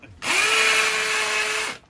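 Hammer drill on its hammer setting, used for drilling through rock, runs loud and steady for about a second and a half, starting and stopping abruptly, with a harsh high whine and dense hammering texture, close to the microphone.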